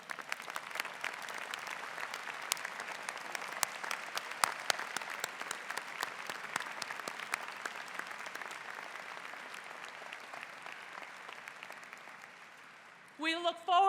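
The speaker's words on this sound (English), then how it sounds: "Students, stand up and join me in applauding and thanking your parents and all the other important people here today." A large crowd at a university freshman convocation applauds steadily with sharp, scattered claps for a long stretch, fading slightly before a brief burst of other sound at the very end.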